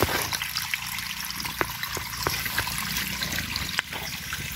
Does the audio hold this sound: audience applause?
no